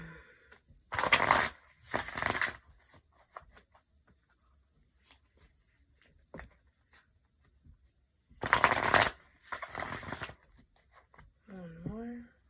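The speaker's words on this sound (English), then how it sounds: "We need another shuffle, don't we?" A deck of oracle cards is shuffled close up in two pairs of quick riffling bursts separated by a quiet gap, followed by a short stretch of speech.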